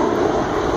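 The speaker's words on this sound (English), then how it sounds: "Airplane!" An airplane flies overhead with a loud, steady, broadband engine roar that fills the whole brief moment, with no voices.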